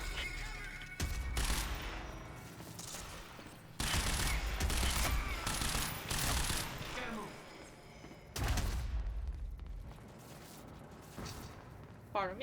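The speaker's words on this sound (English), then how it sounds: "Ignore me missing like 3 shots in a row." Rapid bursts of gunfire in the video game Quantum Break, dense volleys loud in two main stretches with quieter clatter between, mixed with game noise and brief talk.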